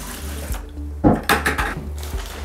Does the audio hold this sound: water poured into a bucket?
yes